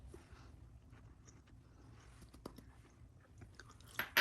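Soft, quiet crunching of a cooked vegetable salad being chewed up close, with a few sharper bites standing out near the end.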